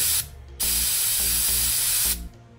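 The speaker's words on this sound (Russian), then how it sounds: "Сказав это, я достал перцовый баллончик" Pepper spray canister in a video game, two sharp hissing sprays, a short one then a longer sustained burst, with mechanical clicking and low tones underneath.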